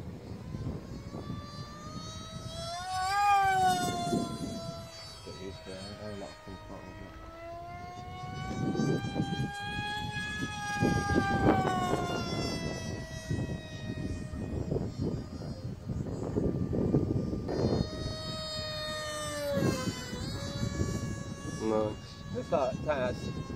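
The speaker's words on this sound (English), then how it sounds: "Enough throttle for the noise, but not the speed." A Skywalker X RC plane on a 4S setup runs its electric motor at partial throttle, giving a steady high whine with shifting tones that rise and fall, heard nearby while people talk over it.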